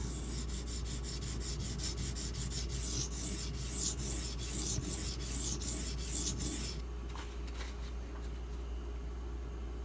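A Benchmade 770 knife blade is stroked along a Spyderco ceramic rod, giving a steady run of quick, rhythmic rasping scrapes up close for about six seconds before fading to a quieter hiss, with no talking.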